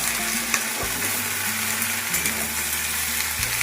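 Mixed vegetables for panchmishali torkari, a Bengali dish with drumsticks, frying in a pan with a loud, continuous close-up sizzle and a low steady hum of the stove underneath.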